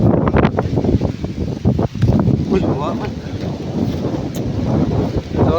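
Strong wind across a mountainside during a storm, roaring and rumbling steadily into the microphone, with a person speaking briefly over it.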